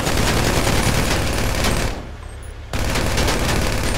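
Heavy automatic gunfire rattles in GTA V as vehicles are shot, dense and loud, breaking off briefly into a quieter gap before resuming.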